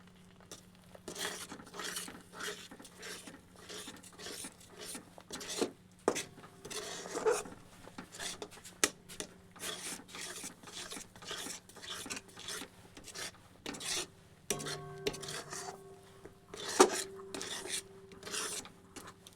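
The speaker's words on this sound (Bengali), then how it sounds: "ঘি দিয়ে এটিকে মিশিয়ে নিচ্ছি" Patishapta pitha filling being mixed with ghee, a spoon rasping and scraping repeatedly against a pot in uneven strokes, moderately close, with brief pauses and a couple of light metallic clinks.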